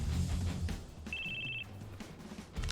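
A short electronic flip-phone ring trills in the Crisis Core Final Fantasy VII Reunion video game, a single rapid warbling burst over low game music and ambience.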